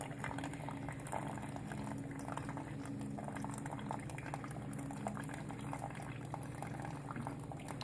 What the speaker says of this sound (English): And then brewing some coffee and getting that nice and warmed up.